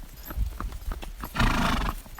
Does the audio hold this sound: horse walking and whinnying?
yes